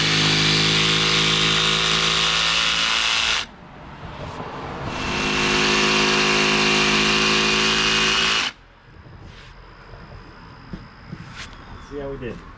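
Power saw cutting notches into a composite decking border board: two loud, harsh whining cuts, each several seconds long with a brief pause between, followed by quiet handling noises.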